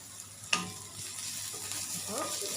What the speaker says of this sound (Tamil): வெங்காயம் கொஞ்சம் லைட்டாக ப்ரௌன் ஆகட்டும் கொஞ்சம் க்ரன்ச்சி ஆகணும்